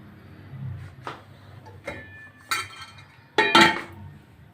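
A lid is set down on a pot of mutton achar masala, giving a few separate metallic clinks and clanks close by, the loudest near the end, with quiet gaps between.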